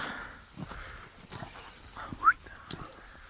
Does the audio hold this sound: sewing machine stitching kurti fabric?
no